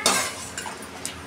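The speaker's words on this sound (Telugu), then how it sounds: "పోయి స్లిమ్లో పెట్టుకొని బాదం పప్పు బాగా వేయించుకోవాలి" Almonds being fried and stirred in a pan, giving a few soft metallic scrapes and clinks of a spoon against the pan over a faint sizzle, brief and close.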